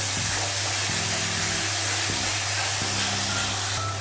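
Whisked yogurt fries with spice masala in a pan on a low flame, making a constant loud hiss and sizzle with a low hum underneath.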